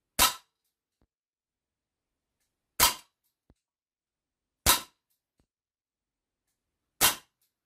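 A black Colt Government 1911 A1 4.5 mm air pistol fires pellets, four sharp loud cracks spaced about two seconds apart with near silence between them.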